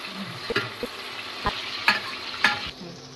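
Onions frying in a pan after dried chillies for a homemade vegetable biryani, a soft steady sizzle with a few sharp spatula taps and scrapes, fairly quiet and without talk.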